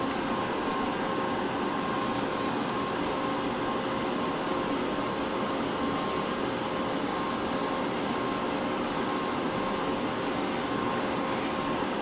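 A Gaahleri Mobius SP airbrush sprays a coat of paint with a continuous, close hiss, steady and even throughout, broken only by a few faint clicks.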